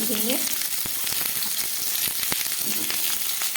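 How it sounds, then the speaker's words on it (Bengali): Winter vegetables such as ridge gourd, radish and carrot fry in a hot pan with a steady, loud sizzle, broken by sharp clicks and scrapes of stirring and a brief ringing clang at the start. "বাকি সবজিগুলো আমি দিয়ে দিচ্ছি"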